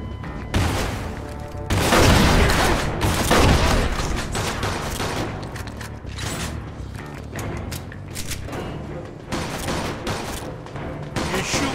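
Loud gunfire in the Mafia II video game, a dense fusillade of overlapping shots with booms and rapid bursts that continues steadily throughout, with no speech over it.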